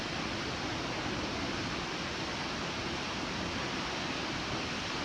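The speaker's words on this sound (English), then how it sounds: "That's a pretty neat waterfall." A waterfall on the Mist Trail roars as a steady, dense rush of falling water, loud and unbroken from start to finish, with no voices over it.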